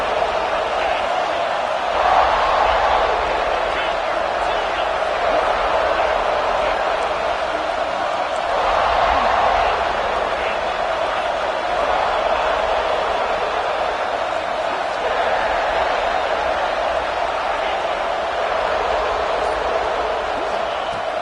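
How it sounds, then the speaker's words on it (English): A football stadium crowd roars continuously during a third-down red zone stand in a college game, a dense, loud wash of cheering that swells in waves over about twenty seconds, with commentary voices partly beneath it. "This crowd is trying to inspire this defense to make a big red zone stop."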